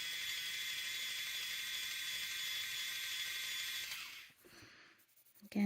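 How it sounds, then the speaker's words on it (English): A pencil being turned in a sharpener while drawing, giving a steady, close grinding whir for about four seconds that then breaks off into a few small scrapes and handling noises. "Let's go sharpen."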